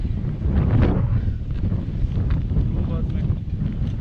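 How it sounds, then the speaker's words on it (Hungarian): Strong wind blows by a choppy sea, roaring and gusting hard against the microphone in a steady, close rush. "Meg itt nagyon fúj a szél."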